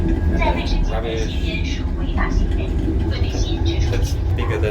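Interior rumble of a Chinese bullet train travelling at about 240 km/h: a steady low, broadband drone filling the cabin throughout, with people talking over it.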